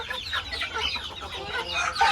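Sarail hens, a cross with Lajja roosters, cluck on a farm in a busy, overlapping chorus of short calls, fairly close and moderately loud, with no talking.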